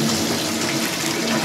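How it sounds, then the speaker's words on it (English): Tap water pouring into a 10-litre plastic water container, a steady close rush of running water with no talking. "I'm going to take you off to a tap, and you'll then see me filling it up"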